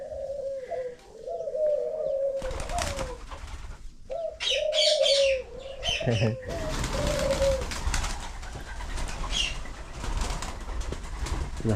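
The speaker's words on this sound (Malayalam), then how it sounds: "ഇതൊക്കെ പ്രാവുകളാണേ ഈ ഇനം പ്രാവുകളാണ് ഇവിടെ" Pigeons coo in repeated soft throaty phrases around an Omani heritage home garden, with brief wing flaps and faint chirps mixed in, all under steady background noise.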